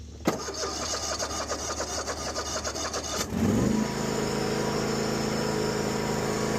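A mid-sized engine on lawn and garden equipment cranks loudly for about three seconds, then catches and settles into a steady, close idle.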